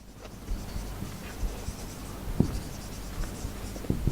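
Chalk or marker scratching on a board in short, irregular strokes while a math ratio problem is written out, quiet and close with faint room noise between strokes.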